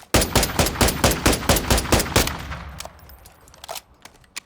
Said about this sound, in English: it shoots not the fastest, but it has a real fast fire rate compared to the EBR now